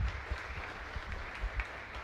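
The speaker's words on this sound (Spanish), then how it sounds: "Fuerte aplauso para el Señor." Quiet applause from a congregation during a Catholic mass in a chapel celebrating a community anniversary, a soft steady clapping with low rumbles and a few louder claps.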